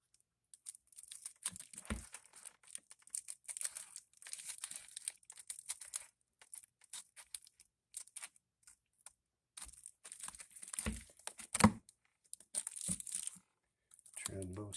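Reflective mylar insulation is cut for a cat shelter, producing intermittent crinkling, rustling and snipping in close irregular bursts with quiet gaps.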